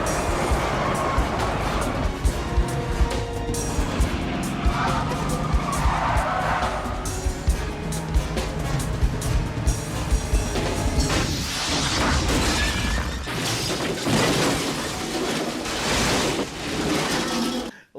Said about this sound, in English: Yes, an urban car chase.